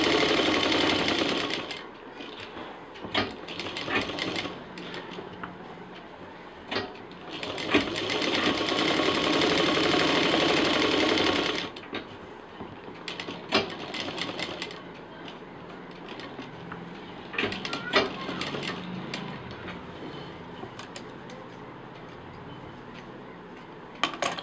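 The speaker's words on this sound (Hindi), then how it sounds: "अब इसको हम जो सेंटर वाली लाइन खींची है एक चाक की दूरी पर सिल देंगे।" A sewing machine stitches along the center line of a fabric sling bag, a long continuous run of rapid mechanical whirring, followed by stop-start bursts and clicks as the work is adjusted.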